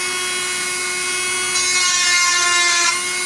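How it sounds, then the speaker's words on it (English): Dremel rotary tool cutting through the leads of a real time clock battery in an IBM PS1 2011, a steady high-pitched whine that rises slightly in intensity partway through, alone with no talk. "You can do that with a Dremel."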